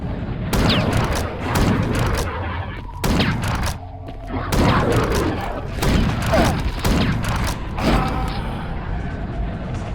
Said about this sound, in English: The delay between shots is what's really killing me here